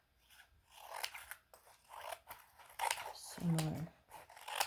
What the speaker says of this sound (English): Okay, so now I think I'm going to just trim it a little bit.